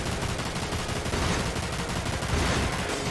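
Rapid gunshots in the video game Dirge of Cerberus: Final Fantasy VII, a dense, continuous stream of loud firing with no pause.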